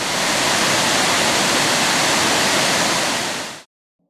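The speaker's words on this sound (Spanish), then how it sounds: "el crujir y la furia de sus aguas" Roaring, crashing water of an impressive waterfall near Catemaco, a dense steady broadband wash that fills the scene loudly and alone before cutting off abruptly near the end.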